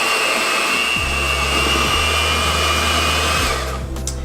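An electric mixer whips sugar, egg whites and lemon juice for royal icing, a loud, steady motor whir heard close up and alone, its pitch shifting slightly before it eases off near the end.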